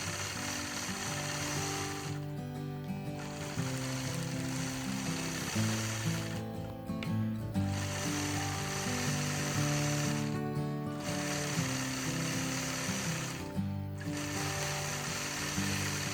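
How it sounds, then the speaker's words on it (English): A sewing machine stitches in the ditch across a quilt block, its needle mechanism humming and chattering steadily in long runs separated by short pauses, close and fairly loud. "stitch up to the next seam, where I'll again repeat that process of stitching in the ditch across the bottom horizontal line"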